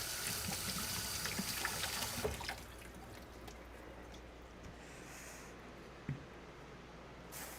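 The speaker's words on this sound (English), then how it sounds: "sometimes with the leeks there can be like dirt in between the leaves, so I try to rinse as much of that as I can" Leeks are rinsed under a running kitchen tap, a steady close splash of water for a couple of seconds, then quiet with a single knock and faint drips.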